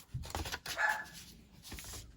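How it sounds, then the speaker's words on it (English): A dog barks several times indoors, in short muffled yips and whimpers over a quiet room, fairly close and moderately loud. "I don't know who the dog was barking at."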